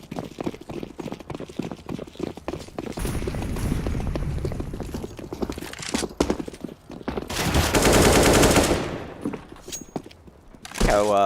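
Bursts of AK rifle fire ring out in a Counter-Strike esports match, rapid cracking volleys rising loud in the middle, mixed under excited commentary from a caster.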